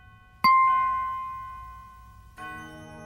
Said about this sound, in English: Sam was awakened by the sound of church bells ringing